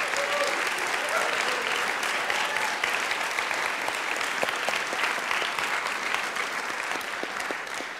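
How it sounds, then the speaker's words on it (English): Sustained applause from a conference audience, steady and fairly loud throughout, with many hands clapping densely and a few voices faintly underneath. "So if you can just give them a round of applause."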